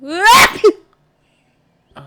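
A woman lets out a single loud close sneeze with a rising wheezy intake and a sharp burst, followed by silence and a faint snatch of voice at the end.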